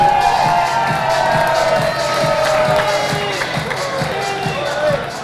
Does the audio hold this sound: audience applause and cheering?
yes